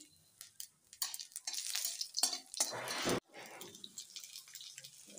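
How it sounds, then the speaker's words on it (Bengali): Potatoes fry in hot oil seasoned with dried chilli, bay leaf and panch phoron, giving a steady crackling sizzle with bursts of stirring and a brief sharp drop near the end. "আলুটা লাল করে ভেজে নেব।"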